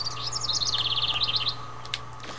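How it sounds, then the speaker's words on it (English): Looping bird chirps from the video game Mega Man Legends, a quick run of bright, rapid tweets over a steady background hum, then a couple of sparse, faint chirps. "Now I recognize this bird loop from anywhere because of this game."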